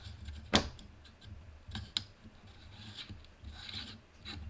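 The orange plastic tip of an Arturus M4 airsoft gun is twisted by hand, giving faint scraping and rasping friction with a few sharper clicks, close up and quiet.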